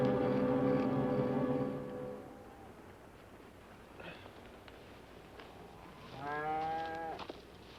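A cow moos loudly and long at the start, then after a quiet stretch another shorter moo sounds, with faint rustling in between.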